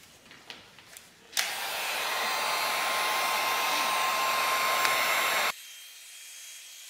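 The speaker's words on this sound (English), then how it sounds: "I'm just going to heat it up a bit so it's easier to" A heat gun warms the final drive cover of a BMW Airhead motorcycle, a steady loud blowing roar that starts abruptly, holds for about four seconds and cuts off, leaving a faint hum.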